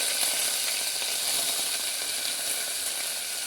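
Mustard seeds, cumin, small onion and curry leaves sizzle steadily in hot oil for a dal rasam tempering, a continuous close crackling hiss with fine popping throughout.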